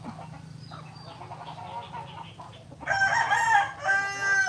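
Hens cluck softly in the background, then a rooster crows loudly and close for the last second and a half.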